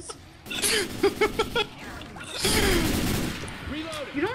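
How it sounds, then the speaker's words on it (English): A grenade launcher round explodes in Left 4 Dead 2, a broad, rumbling blast that swells and decays over about a second, surrounded by excited voices talking and exclaiming before and after. "You don't shoot grenade launchers around people"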